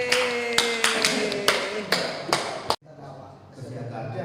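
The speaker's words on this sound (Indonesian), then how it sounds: "Beri aplaus dulu Pak." Audience at a teacher training dissemination session clapping, a series of distinct loud claps in a slow rhythm that cuts off abruptly, followed by quiet room noise with a voice talking.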